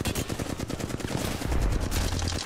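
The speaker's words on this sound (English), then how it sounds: "Missed all my shots." Rapid automatic gunfire from the video game Apex Legends during a team fight, with dense, sharp bursts of shots rattling continuously and loudly throughout.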